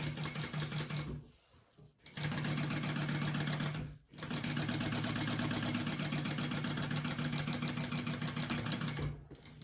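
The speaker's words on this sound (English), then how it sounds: "I'm gonna top stitch it and then add it to my bag." A sewing machine top stitches a slip pocket for a crossbody bag, running in steady close whirring runs broken by two brief pauses and stopping near the end.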